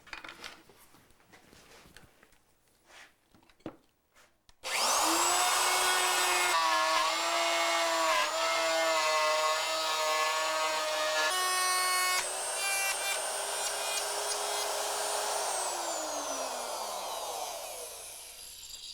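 A plunge router cuts wooden stair parts during a staircase installation. After a few seconds of quiet handling it roars to life in a loud, steady, high whine that holds near and constant, then winds down at the end.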